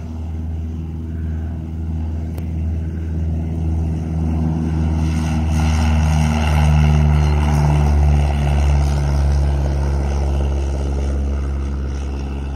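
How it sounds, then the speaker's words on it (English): A propeller airplane at Sand Springs William R. Pogue Regional Airport produces a continuous loud droning engine hum with a steady low rumble that swells slightly midway, heard alone without speech. "I'm not sure what kind of plane this is"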